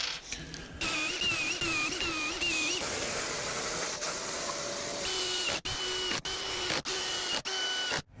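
Screws being driven into wooden boards for a weight-lifting bench, built outdoors in freezing weather: a steady whining power-tool drone with pitch swoops across several seconds, then a series of short bursts separated by brief pauses.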